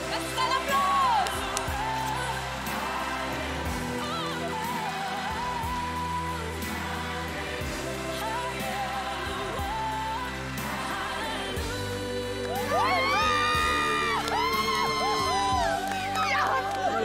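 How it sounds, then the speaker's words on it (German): A television singing-contest audience cheers and shouts over loud music, with excited crowd noise and whoops blended into the band throughout. "Das ist ein Applaus."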